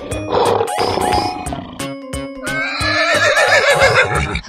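A horse neighs and whinnies in loud, close bursts, with a shaky, wavering whinny in the second half and no talking.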